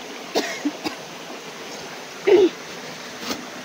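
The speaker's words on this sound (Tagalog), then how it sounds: "inuubo po ako kasi sobrang hirap po talaga pag umakyat ka ng bundok." A few short coughs break a quiet background with faint outdoor hiss on a mountain climb, with one longer, harsher burst of coughing in the middle and no talking.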